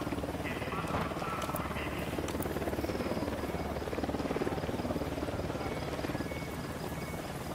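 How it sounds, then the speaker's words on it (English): Helicopter rotors chop steadily through a dense layer of jungle-like ambience in a tactical shooter campaign across Bolivia, a continuous throbbing drone that stays fairly even in loudness, with scattered insect or frog chirps over it. "Chopper incoming."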